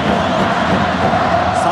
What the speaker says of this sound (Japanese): サポーターの声援でなかなか指示が伝わりません。